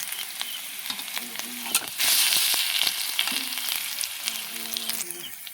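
Chopped onion, ginger, garlic and green chili sizzle and crackle loudly in a hot oiled pan with nigella seeds, the frying growing briefly fiercer as more is added and stirred.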